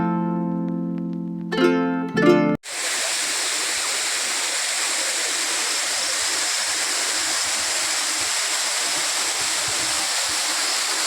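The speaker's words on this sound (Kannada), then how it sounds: "ಈಗ ನಾವು ನೋಡ್ತಾ ಇರುವಂಥ ಜಲಪಾತ ಬೂಸನಕೇರಿ ಜಲಪಾತ ಅಂತೇಳಿ ಇದರ ಹೆಸರು" Bhusanakeri waterfall near Sirsi in Uttara Kannada roars as a loud, steady rush of falling water after a short burst of music at the start.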